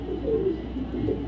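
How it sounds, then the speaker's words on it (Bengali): A top-quality female racing pigeon gives a low, throaty coo, a pair of soft rolling notes that are close and fairly clear over a faint background hum. "একদম টপ কোয়ালিটির একটা সবজি রেসার মাদি কবুতর"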